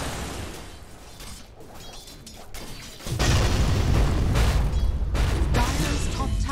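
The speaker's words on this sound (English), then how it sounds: "Dire's top tower has fallen." A tower collapses during a Dota 2 match, with booming, crumbling impacts that swell into a loud, dense rumble partway through over faint game noise.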